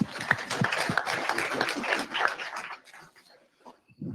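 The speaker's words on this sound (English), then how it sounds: "Let's give him a round of applause" An audience gives a speaker a round of applause, a busy crackle of clapping for about two and a half seconds that quickly thins out to a few stray claps and near silence.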